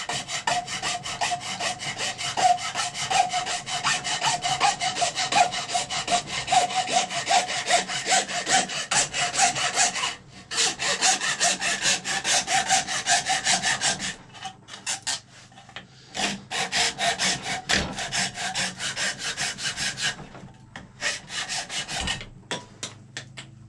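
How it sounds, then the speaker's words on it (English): A common hardware-store hacksaw cuts around the base of a powder horn in steady, rapid back-and-forth rasping strokes, close and continuous, with a few brief pauses between runs of strokes. "I'm then going to take your common hardware store hacksaw and cut around the base"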